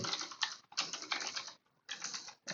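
Rapid typing on a computer keyboard, bursts of dense clicking separated by brief pauses, close and fairly quiet, with no voices.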